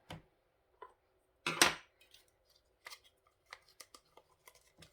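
Ribbon is cut with small snips during card making: one crisp, loud cut followed by a string of light ticks, taps and rustles of handling, close and quiet overall, with no talking.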